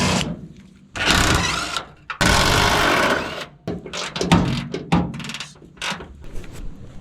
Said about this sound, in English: You'll have to hold that with a 14mm wrench to keep it steady when you undo this